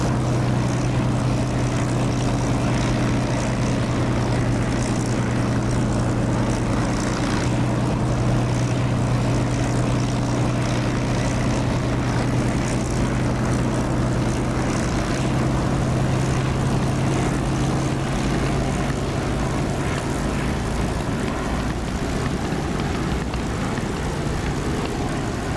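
A propeller aircraft coming in to land in the flight simulator DCS, a loud, steady engine drone with a sustained low tonal hum, continuous and close throughout.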